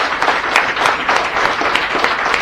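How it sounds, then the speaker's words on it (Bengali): Loud, steady applause from a seminar audience clapping for three people, a dense wash of hands filling the full stretch with no pause. "এই 3 জন ব্যক্তির জন্য একবার জোরে হাততালি হবে"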